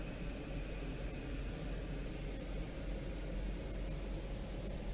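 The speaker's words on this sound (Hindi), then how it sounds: "और ये APU एग्जॉस्ट।" An Airbus A380's auxiliary power unit exhaust runs as a steady, droning turbine roar with a high whine on top, constant and moderately distant, with no voices.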